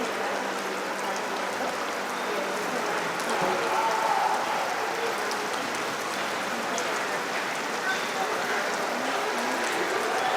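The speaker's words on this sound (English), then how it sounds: "And as you can see, it's a little rainy right now" Steady rain falls at dawn at Riviera Maya on the Caribbean Sea, a dense, even hiss of drops on surfaces holding at a constant level for the whole stretch with no talk.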